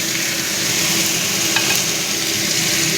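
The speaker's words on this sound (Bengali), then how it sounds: "এইবারে কষাতে থাকবো।" Minced meat sautéing in oil in a pan with spices, green chilli paste, ginger paste, garlic, turmeric and salt: a loud continuous sizzle with scraping stirring, close up and without talk.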